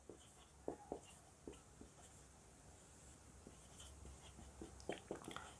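Pen or chalk writing on a board during a maths lesson on positive integers, a series of short scratchy strokes in uneven bursts, near and fairly quiet against a steady room hiss, with no talk.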